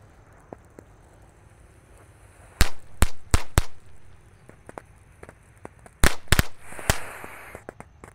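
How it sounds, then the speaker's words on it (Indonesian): A tank-type firecracker is set off outdoors, giving two clusters of sharp, loud cracks and pops a few seconds apart, each a quick rapid string of bursts against a quiet background. "di sini ada mercon tank tor. Kita nyalakan, let's go"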